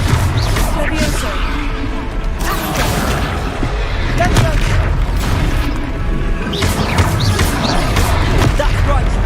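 Repeated booming spell blasts from Confringo casts in the game Hogwarts Legacy, loud and dense, with crashes and whooshes layered over continuous battle noise.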